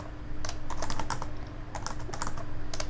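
Fast, uneven bursts of keystrokes on a computer keyboard, clicking in close, crisp clusters with short pauses between runs, and no voices.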